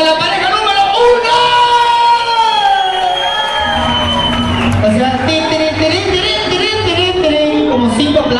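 A lively crowd at a couples dance contest in Cancun cheers and shouts, voices whooping over a steady roar, with someone speaking loudly on top of the noise.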